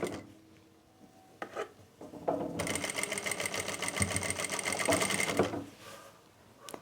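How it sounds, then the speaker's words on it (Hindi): An electric sewing machine stitches the pocket seam of palazzo pants. There is a few seconds of steady, whirring needle chatter, preceded by soft handling noises of the fabric, close and moderately loud. "इसको टच करते हुए हमें यहाँ पे सिलाई लगानी है।"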